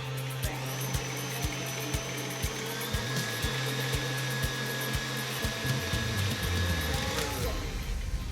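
An electric mixer whirring steadily as vanilla is blended into pound cake batter, a close motor drone with a regular pulsing beat for several seconds before the pitch shifts and it winds down.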